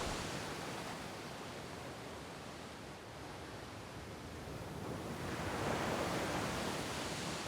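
Steady broadband rush of sea surf on Lal Kakra beach, a secluded stretch lined with casuarina trees, swelling slightly louder toward the end with no talk.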